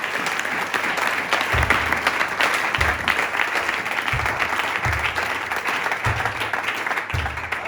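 A church congregation claps and cheers for Jesus in a steady, dense wave of applause that fills the room, with low rhythmic thumps pulsing underneath every second or so.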